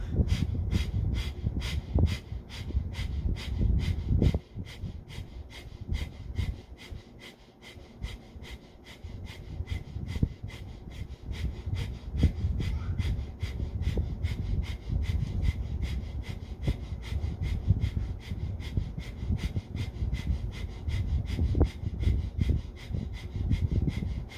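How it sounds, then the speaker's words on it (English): Rapid rhythmic breath-of-fire yoga breathing, quick forceful nasal exhales pumping steadily for a long stretch, close and continuous, with a brief pause partway through. "again begin breath of fire"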